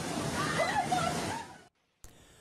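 Floodwater in Iran rushes and churns loudly, a broad washing roar that cuts to silence near the end before a short burst of noise returns.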